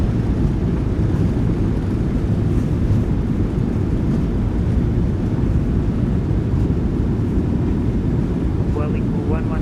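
A Boeing 737-800 rolls out on landing in the PMDG flight simulator with its thrust reversers deployed, giving a loud, dense, steady roar of engine and rushing air that continues unbroken for the whole stretch.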